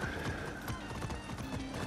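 Zebra hooves clip-clop in a quick, steady trotting rhythm over a constant background hum in Far Cry 6.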